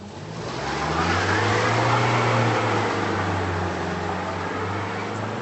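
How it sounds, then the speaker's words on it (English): A front-wheel drive Jaguar X-Type revs hard while failing to climb an icy slope, its engine rising to a sustained, droning roar and holding there with a steady low hum, close and loud. "No matter what I tried, the front-wheel drive X-Type wasn't going up."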